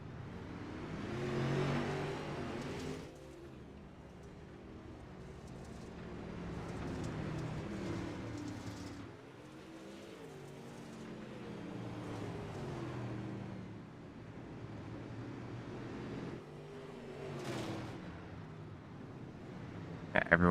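Modified race cars in the DirtKars game at Cedar Lake drone and rev past a pace truck, with engine noise swelling and fading in long passes, and voices talk over the cars throughout.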